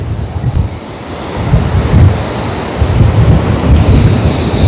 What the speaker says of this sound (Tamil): பாருங்க தண்ணி எப்படி ஓடுது